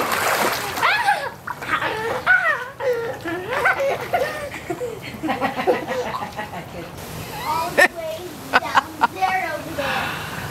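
Water splashing in a swimming pool as people swim, with repeated irregular splashes and sloshing close by, interspersed with sharp bursts, while people talk and call out throughout.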